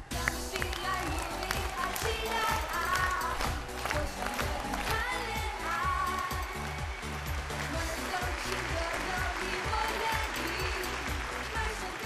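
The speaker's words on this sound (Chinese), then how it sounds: "来，掌声有请2号高宇，有请。" Studio audience at a Chinese televised dating show claps steadily and loudly for a male contestant, a sustained dense wave of applause with some crowd noise mixed in.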